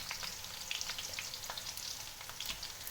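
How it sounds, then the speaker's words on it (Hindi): Onions fry softly in a pan, with garlic and ginger paste added, giving a faint, continuous sizzle with scattered crackles and pops and no talking. "चले प्याज को हल्का गोल्डन फ्राई करते हैं।"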